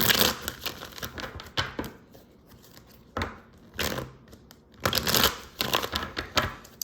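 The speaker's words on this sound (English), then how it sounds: "I'm shuffling to give you 3 cards." Tarot cards being shuffled by hand during a reading, brisk bursts of riffling and flicking separated by short pauses, close and fairly loud.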